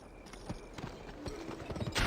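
Hooves clip-clop steadily from a horse in the Western video game GUN, a soft rhythmic trot rising in level toward the end, with faint background ambience.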